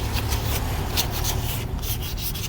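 Sandpaper rubbed steadily across a surface, a continuous close scratchy rasp with repeated strokes and no talking.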